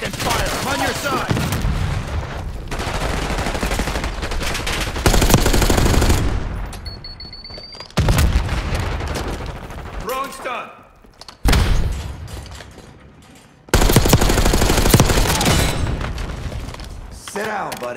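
Call of Duty Black Ops 6 firefight with bursts of automatic gunfire and heavy booming impacts, loud and up close. The bursts are broken by short quieter gaps, with game voices mixed in.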